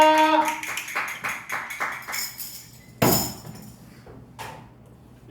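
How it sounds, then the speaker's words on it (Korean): Church congregation at a Sunday worship service clapping in praise to God, a burst of sharp rhythmic claps over a sustained musical tone, then a louder single impact and scattered fading claps. "우리의 좋으신 하나님께 감사의 영광의 박수 올려드립시다"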